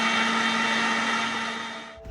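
Kitchen blender whirring steadily at high speed while making watermelon juice, a loud constant motor hum that cuts off abruptly near the end.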